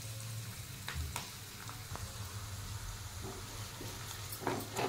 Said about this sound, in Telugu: ఉల్లిగడ్డ ముక్కలు కలుపుకోవాలండి. ఒకసారి ఫ్రై చేసుకోవాలి.